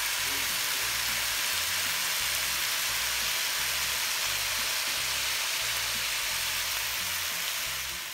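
Curry chicken pasta sizzles steadily in a hot pan while being stirred, a loud, continuous frying hiss with faint scraping underneath and no pauses.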